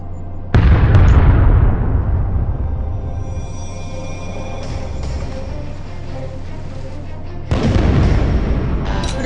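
Cannon blasts and explosions from a warship battle video game, with a loud boom near the start, a sustained rumbling roar through the middle and another heavy burst near the end, all close and dominant.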